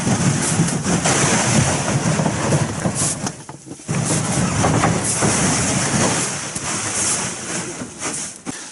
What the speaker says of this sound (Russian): Дальше поплывем лодкой.